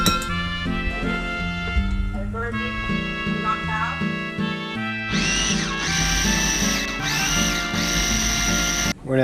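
Fermented hot sauce gets ground in a motorized blender or processor, a steady whirring churn that starts about halfway through and runs continuously beneath background music.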